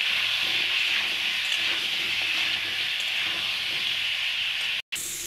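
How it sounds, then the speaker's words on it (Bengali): Potatoes seasoned with salt and turmeric fry in a pan, giving a continuous even hiss of sizzling oil that holds steady for several seconds before cutting off abruptly near the end. "সামান্য একটু হলুদ গুঁড়ো দেবো, দিয়ে আলুটা ভাজবো"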